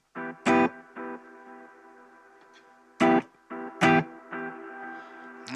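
Electric guitar chords through a BOSS GT-1000 reverb strummed in short bursts, each ringing out into a washy reverberant tail that lingers between hits.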